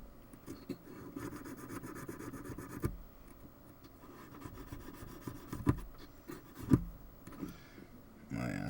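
A cleaning tool rubs across the wire contacts of an IBM relay panel, making a soft, close scraping and brushing with occasional sharper clicks, fairly quiet and without talk.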